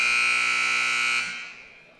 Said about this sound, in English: I wish they could turn that buzzer up just a little bit